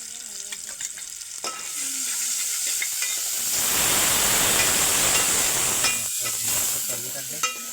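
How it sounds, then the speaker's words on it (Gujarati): Tomatoes and chillies dropped into hot oil for a pasta sauce sizzle loudly, the hiss swelling into a dense frying roar midway, with occasional stirring clinks up close. "આપણે તેલ ગરમ થઈ જાય એટલે ટોમેટો અને મરચાં નાખી દીધું।"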